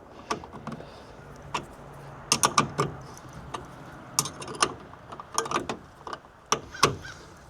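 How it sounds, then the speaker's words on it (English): A wrench tightens the mounting hardware of an inflatable camper top on a Chevy Colorado truck bed. Quick, close ratcheting clicks come in bursts with short pauses between them. "Then we use a wrench."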